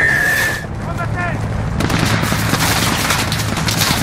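Bursts of machine gun fire and booming shots in Call of Duty Modern Warfare, loud and rapid in a dense battlefield mix, following a brief shouted voice at the start.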